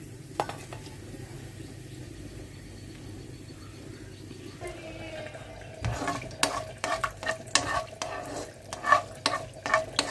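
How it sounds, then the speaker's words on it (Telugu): Mustard seeds, urad dal, chana dal, curry leaves and dried red chillies sizzle in hot oil. The first half is a quiet, steady fry, then it turns louder, with sharp crackles and pops and a spoon stirring against the pan. "నూనె వేసాను, వేడైంది. పోపులు వేసుకుందాము."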